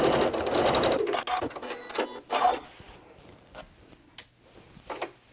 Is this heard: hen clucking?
no